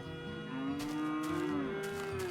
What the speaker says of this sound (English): These cows are so annoying, dude. They're so loud.